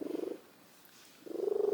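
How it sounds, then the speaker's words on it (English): A cat purring close up, a low rhythmic rumble that pauses briefly and then returns louder, with no voices. "I'm sending you some extra purr."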